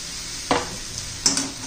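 A spatula stirs a bitter gourd stir-fry with coarse crushed peanuts in a pan, giving two scraping strokes over a steady sizzle, close and fairly loud, with no talk.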